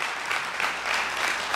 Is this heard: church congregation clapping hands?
yes